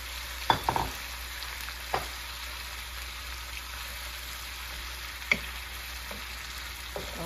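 Pancit canton ingredients dropped into hot cooking oil, giving a steady, quiet frying sizzle with a few sharp pops and clatters from stirring utensils.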